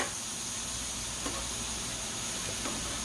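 Pork chops frying on a Blackstone E Series electric griddle give off a steady, close sizzle, a continuous crackling hiss that holds even throughout with a couple of faint scrapes and no voices.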